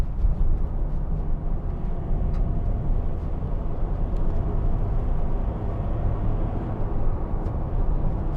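A 2015 Ford Transit Custom 2.2 TDCi 270 van with a six-speed gearbox on the move, giving a steady, close engine and road drone inside the cabin with no voices.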